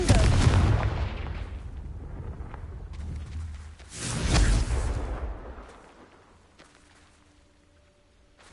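A Confringo blasting curse goes off in Hogwarts Legacy, a loud booming explosion followed by a crackling rumble, then a second heavy blast around the middle that trails off into a fading roar and quiet tones.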